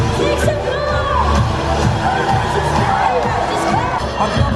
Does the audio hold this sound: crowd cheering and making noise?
yes